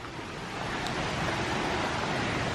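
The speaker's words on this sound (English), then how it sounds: "you can hear the river" A river rushes beside a hiking trail in Dominica, a steady broadband roar of flowing water filling the whole moment without pause, close and fairly loud.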